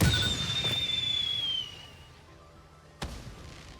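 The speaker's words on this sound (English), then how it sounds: "So if I get the sparkly firework and I toss this down, off she goes." A sparkly firework tossed from a Nobelisk detonator in Satisfactory whistles in a long, bright falling tone for about two seconds, then fades to quiet before a single sharp pop near the end.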